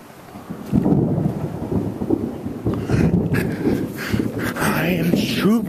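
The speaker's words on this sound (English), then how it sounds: "The scariness of the thunder is very scary." Thunder from an approaching thunderstorm, a heavy low rumbling that rolls on continuously, loud and near, with a faint hiss of rain or wind and a voice briefly heard in the background.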